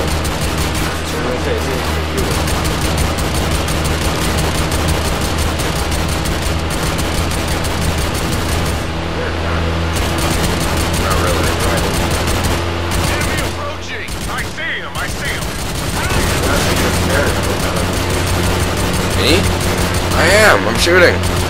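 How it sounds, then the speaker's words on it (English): Gunfire in the video game Army of Two: sustained, heavy rattling of shots that runs almost the entire time, loud and continuous, with talk over it. "I'm shooting."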